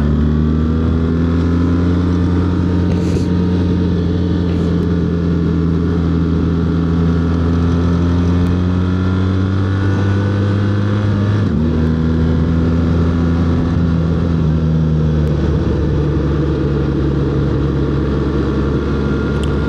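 A 2025 BMW R 1300 GS motorcycle engine gurgles steadily while riding along a Pennsylvania road, a loud continuous low drone with a pitch shift midway as it changes speed.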